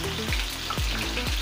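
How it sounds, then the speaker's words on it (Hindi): A garlic, ginger and green chili paste fries in a pan over a normal flame for an Indian-style egg curry, giving a steady close-up sizzle with a few soft crackles and pops. "इस पेस्ट को हम थोड़ी देर फ्राई कर लेंगे"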